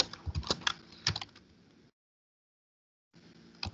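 Keystrokes on a computer keyboard clatter in an irregular burst for about two seconds, stop, then resume faintly near the end, close and fairly quiet with no talking.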